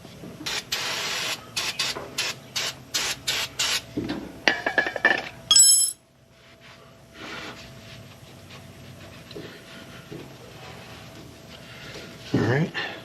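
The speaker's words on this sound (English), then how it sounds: "I'm gonna spray that off so it don't eat what little paint's on there." Spray can bursts onto a rear-end brake drum during a rear axle swap: a run of short, rhythmic hissing sprays, then a few clinks and one louder blast, followed by quieter shop background.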